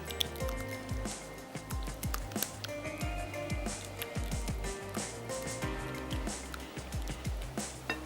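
Biryani is stirred with cream and zarda colour in a pot, giving soft, repeated wet squishes and clicks of a spoon at an even pace, close and fairly quiet, with no voices.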